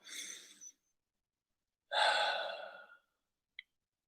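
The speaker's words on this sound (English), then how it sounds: "We're going to take a big breath in and out, and exhale and inhale." Two slow, deep breaths, close and soft, each a breathy rush of air separated by a pause of silence, followed by a tiny faint click; no one speaks.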